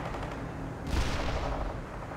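Machine-gun fire and other gunfire in a war video game, dense rattling bursts with a heavier boom near the start, loud and continuous with no speech.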